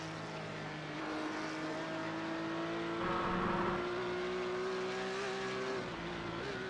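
A Porsche Carrera Cup race car on a flying lap at Sonoma, its engine holding a steady, sustained whine. The pitch rises slightly toward the end.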